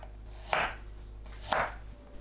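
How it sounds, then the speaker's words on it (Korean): A knife slicing garlic into thin pieces on a board gives two crisp, separate chopping strokes about a second apart, close and fairly quiet, with no talking. "마늘은 편으로 썰어주세요."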